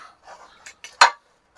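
Cast iron frying pans being handled in a shop, a few faint scrapes and knocks followed by one sharp metallic clink, brief and close.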